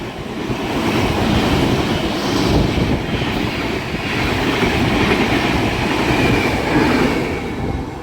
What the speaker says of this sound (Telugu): తిరునాల్వేలి నుంచి పురీలియా వెళ్ళే ట్రైన్ వెళ్ళింది